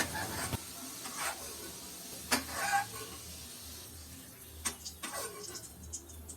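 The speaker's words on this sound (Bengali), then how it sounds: "আলুগুলোকে নাড়াচাড়া করে ভেজে নেব" Potatoes stirred and fried in oil for matar aloo biryani, a steady low sizzle with scattered scraping stirs and a few sharper clatters of the spoon, close by with no voice.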